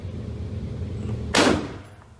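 A single loud, close gunshot from a machine gun or WW2 rifle on a shooting range, a sharp blast with a short fading tail over steady background noise.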